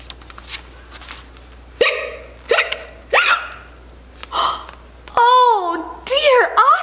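Exaggerated hiccups voiced by a storyteller for a puppy dog in a children's story, several sharp, squeaky hics spaced a second or so apart, loud and close, with a voice imitating the sound.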